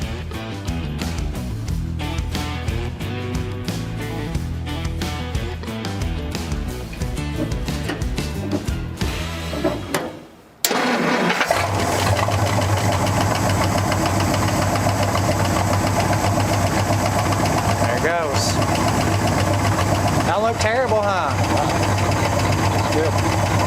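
A long-dormant 1957 Dodge Sweptside D100 cranks over roughly for ten seconds, briefly goes quiet, then fires and settles into a steady, slightly knocking idle that runs loud and continuous through the rest.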